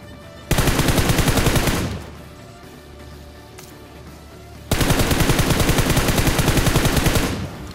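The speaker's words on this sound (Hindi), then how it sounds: "अब मेरे को उतने में ही राइट की साइड से साउंड आता है फायर का," Automatic gunfire in the mobile battle royale game BGMI comes in two long, loud rapid bursts separated by a quieter gap of ambient game sound.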